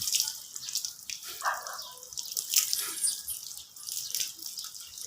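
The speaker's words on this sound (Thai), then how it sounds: "กำลังอาบน้ำนะครับ ทำความสะอาดเพราะว่าตัวเหม็น" Water from a tap runs and drips steadily while a dog is bathed, a soft, close splashing flow with brief heavier gushes and no talk.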